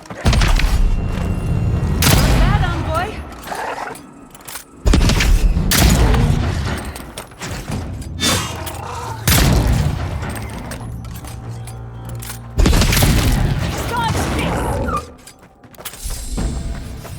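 Gunfire and blasts in the fantasy action game Avowed: repeated heavy booming shots and thuds with rumbling tails in bursts every few seconds, loud and close amid a busy battle din.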